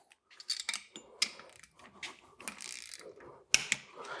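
Ratchet wrench with a 15 mm socket turning a bolt on a truck engine during an AC, alternator and power steering bracket install: irregular bursts of quick metallic clicking, close up, with short pauses between strokes.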